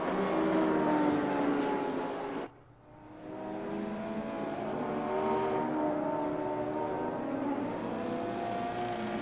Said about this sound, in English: As you hear the turbo flutter, great sound on those Sierras.